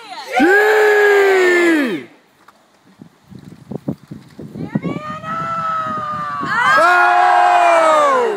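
A group of kids in a swim-team skit lets out loud rising whoops and yells in two bursts, separated by a stretch of scattered chatter and shuffling noise.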